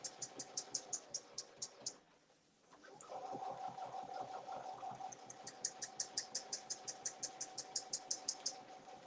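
A sewing machine stitches along a line in quick, regular bursts of needle strokes, pauses briefly, then hums steadily before the rapid stitching resumes; close and fairly quiet.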